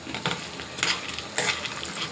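Roasted gram dal and spices are stirred in a pan with the stove switched off, the spoon scraping in three or four quick, faint strokes against a soft background hiss, with no talking.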